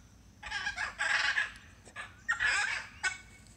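A chicken calls in a few loud, drawn-out squawking bursts with short gaps between them, heard over faint low background noise.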